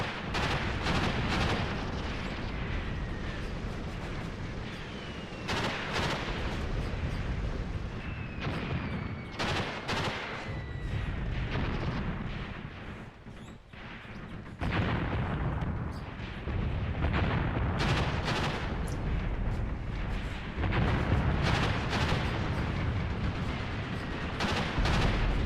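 A modern battle video game set in Angola, with South African forces invading, fills with dense gunfire and booming artillery. Dense rapid shots, bursts and heavy blasts overlap continuously, loud and close, with distant explosions behind them.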